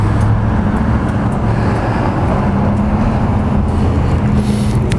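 A 2006 Harley-Davidson Fatboy FLSTF motorcycle idles and runs steadily, a loud continuous low rumble with little change over the seconds, no talk.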